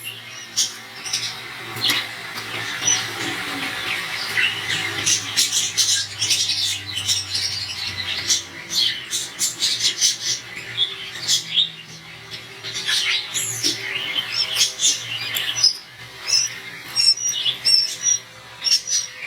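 Quail chicks on a farm chirp and peep continuously in a dense, busy chorus of many small birds, with a low hum underneath throughout.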